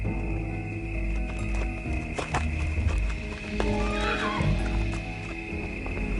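A horse whinnies loudly amid hoof clip-clops and a busy, dense background, the neigh standing out briefly near the middle of the stretch.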